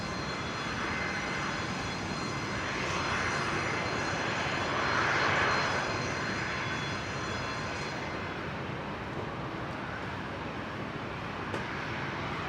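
A King Air turboprop takes off from runway 19 right at Brisbane International Airport, its broad, steady engine roar filling the whole stretch, swelling slightly midway and easing toward the end, with no voices.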